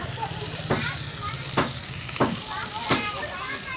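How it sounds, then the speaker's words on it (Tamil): Tomatoes sautéing with turmeric in a pan for an anchovy curry, a continuous sizzle under a low background hum, broken by four sharp scraping stirs of a spoon at roughly even intervals. "தக்காளி கொஞ்சம் லைட்டாக வதங்கிச்சு"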